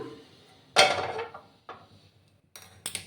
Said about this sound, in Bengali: একটা প্যান আমি বসিয়ে দিলাম।